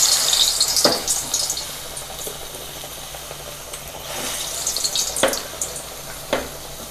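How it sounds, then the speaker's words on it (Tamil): Vadai frying in hot oil, a steady crackling sizzle with several louder bursts of bubbling as batter drops in, close by and with no talking. "எண்ணெய் காஞ்செடுத்து இப்போ வடை போட்டலாம்."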